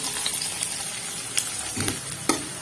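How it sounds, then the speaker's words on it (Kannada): Chopped onions frying in a pan with cumin and curry leaves, a continuous close hiss and sizzle with a few soft stirring scrapes, no voices. "ಚೆನ್ನಾಗಿ ಫ್ರೈ ಮಾಡ್ಕೊಳ್ಳೋಣ ಹಸಿ ವಾಸನೆ ಹೋಗೋವರೆಗೂ"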